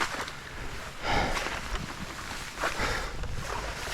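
Knee-deep steps through swamp water on the Rideau Trail make low, uneven sloshes and swishes near the microphone, partly blurred by constant wind rumble.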